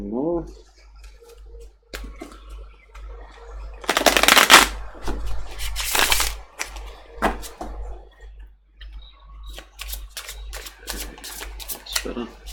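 Tarot cards riffle and flap in quick bursts of shuffling, with a few louder flurries, interspersed with soft handling noises and some quiet voice.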